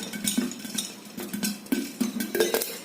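Jowar (sorghum) grains pop inside a pressure cooker with the whistle removed and the lid resting loosely on top, giving rapid irregular metallic clicks and rattles close by.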